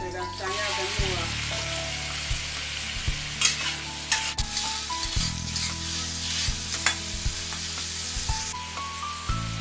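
Yam, wood ear mushroom, green pepper and carrot stir-fried in a wok, a bright sizzle broken by repeated scraping and clanking of a spatula in an uneven rhythm, close up.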